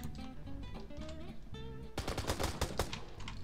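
Gunfire from a Minecraft gun mod in the game: after a stretch of tonal game music, a rapid string of sharp shots rings out in the second half, fairly loud over the music.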